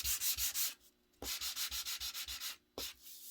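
Hand sanding of a craft work surface: brisk back-and-forth strokes in quick rhythmic bursts, pausing twice briefly before resuming, close and crisp with no voices.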